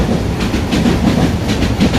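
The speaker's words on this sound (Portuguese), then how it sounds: "Olha o trem novamente." A train passes close by in a city, a steady broadband rumble with rhythmic clattering from the wheels and cars running through the whole stretch, loud and continuous with no talk over it.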